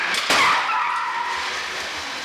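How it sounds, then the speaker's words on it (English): A Ford car crash test gives a sharp loud impact burst followed by a screeching, fading skid-like squeal lasting about two seconds. "So the crash is successful,"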